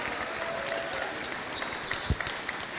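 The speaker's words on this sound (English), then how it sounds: "Let's give her a round of applause" A crowd claps steadily at a girls' basketball championship awards ceremony, with a continuous, moderately distant wash of applause and a few sharper claps near the end.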